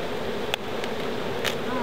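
Bees swarm around a wild beehive built in a lavender bush at a kindergarten, producing a constant, close droning buzz, with a few louder passes near the microphone.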